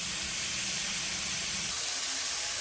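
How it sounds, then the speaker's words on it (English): Vegetables, squash for a barbecue chicken meal, sauteing in a pan, a steady broadband sizzle and hiss that is louder at first and thins out toward the end, with no talking. "I'm just gonna keep sauteing them"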